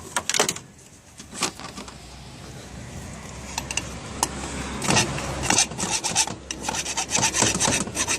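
A file rasps a burr off a universal joint yoke in a series of separate short scraping strokes, close and fairly quiet, with pauses between them.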